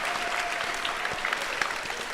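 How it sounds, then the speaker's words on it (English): An audience applauds steadily at a Lady Cards vs TJC basketball event in 2018, with dense, even clapping throughout and no talk over it. "let's give them a round of applause"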